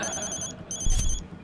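A telephone rings in repeated bursts of bright electronic tones with a short gap between them, loud and close, with a thump partway through and no talk over it.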